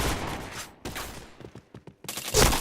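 Bursts of rapid gunfire in a shooting video game, loud crackling volleys separated by a short gap of quieter single shots, ending in a heavy final burst.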